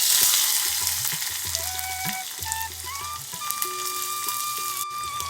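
Mustard seeds, cumin, dried red chilies and onion pieces sizzle loudly in hot oil for mint rasam, a dense continuous crackle with scattered pops and a few clinks of a utensil.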